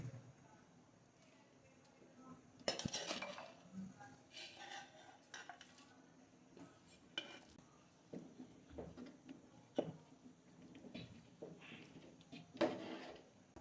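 Spoon mixing smashed chicken into a thick gravy for haleem, irregular scraping and clinks against the pot over a soft low sizzle, with a quiet voice at times.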